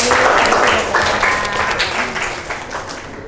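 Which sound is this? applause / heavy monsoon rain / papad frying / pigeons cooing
applause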